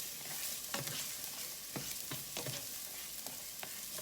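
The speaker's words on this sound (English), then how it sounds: "And then I want to saute my onions in there." Onions sauté in a pan for a healthy spaghetti dish, a close, steady sizzle broken by repeated sharp scrapes and taps of stirring at a brisk, uneven rhythm.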